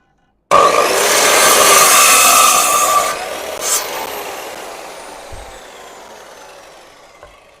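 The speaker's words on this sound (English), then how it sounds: "I'm pretty good with the snip saw thingy, but it takes a lot of planing to get it all straight." A saw cutting wood during a backyard building job: one loud, steady rasping cut lasting a few seconds, then a fading tail with a couple of light knocks.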